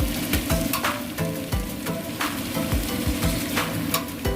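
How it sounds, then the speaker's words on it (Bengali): Mung dal frying in hot oil with cooked-down spices sizzles steadily and close, with a spatula stirring and scraping the pan in a regular rhythm throughout. "মুগ ডালটা একটুখানি ওটার সাথে নেড়ে নেব, মশলাগুলোর সাথে"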